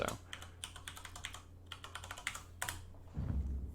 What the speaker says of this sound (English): you'll want to type in your user ID and then your password